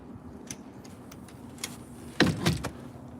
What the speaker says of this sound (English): just going to lock the door